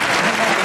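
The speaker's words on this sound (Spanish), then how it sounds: "Un gran aplauso" Applause for a gospel choir from Vigo at the end of a concert performance, a dense, steady clapping that fills the short moment with no voices.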